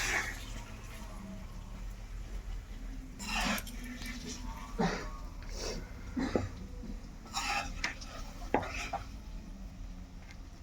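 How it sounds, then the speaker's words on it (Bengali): Fried paneer lifted from a pan into a bowl, with scattered clinks and scrapes of metal utensils against cookware spaced through the stretch, close and fairly quiet, plus a faint cough. "এবার এই পাত্রে আমি পনিরগুলো তুলে নেব"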